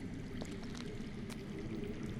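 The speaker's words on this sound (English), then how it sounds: "I hear water. From underground." Underground water flowing in a Game of Thrones video game, a soft continuous pouring, trickling stream, faint and steady with no other sounds.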